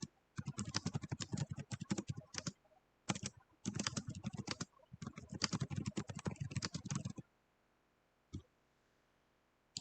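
Rapid clattering keystrokes on a computer keyboard come in three dense bursts separated by short pauses, close and crisp, followed by near silence and one final isolated key press.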